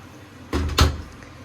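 A cupboard door in a home kitchen swings shut with a short muffled knock and a second firmer thud close by, set in a quiet room.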